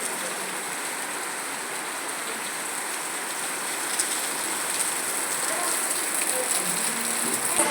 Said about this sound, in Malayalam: നല്ല അടിപൊളി മഴയാണ് ഗൈസ് ഇവിടെ പെയ്തുകൊണ്ടിരിക്കുന്നത്